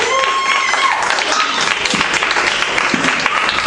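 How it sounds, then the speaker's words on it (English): Steady, loud audience applause for a stand-up comedian at a comedy show, a dense wash of clapping filling the whole stretch without a break. "Give him a round of applause."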